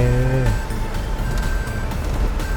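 A 2019 Toyota Fortuner 2.4V two-wheel-drive seven-seat SUV accelerates, its loud engine drone rising in pitch and then settling into a steady broad rumble heard from inside the cabin.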